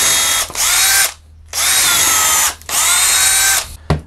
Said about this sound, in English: I'm going to do is I'm actually going to drill a hole in this piece of wood